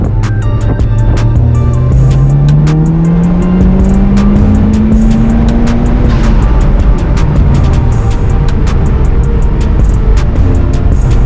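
A Mitsubishi Evo 8 pulls hard through third gear, its loud engine note rising steadily in pitch before easing off, heard close from inside the car with no speech.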